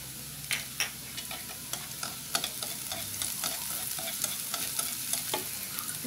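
Cucumber stuffing filling stir-fried with seasoning in a pan, a continuous close sizzle with frequent light clicks and scrapes from the stirring utensil.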